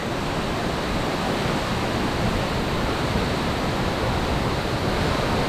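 Palali Falls in Barangay Diaro, Malinao, Albay, roars as a dense, steady wash of falling water, loud and unbroken with no voices.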